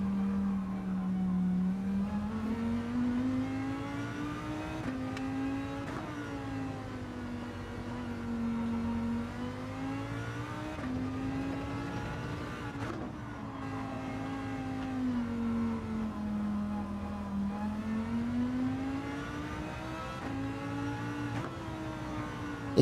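Race car engine in Gran Turismo 7, a steady droning tone that rises and falls in pitch as the car shifts and revs through several cycles, even and moderately quiet throughout.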